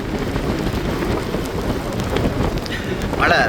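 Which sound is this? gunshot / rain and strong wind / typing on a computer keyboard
rain and strong wind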